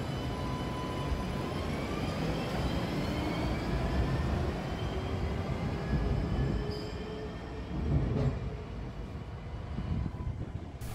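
Interior of a train in Taiwan carrying a bicycle on board, with a steady rumbling ride, rail noise and faint tonal whine throughout, plus a few brief clanks toward the end.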